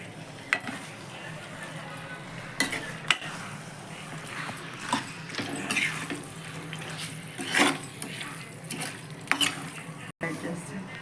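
Turmeric-marinated chicken with curry leaves stirred in a pan for a Sunday chicken curry, giving soft sizzling with scraping spatula strokes and clinks at an irregular pace, close and moderately quiet, with no talking.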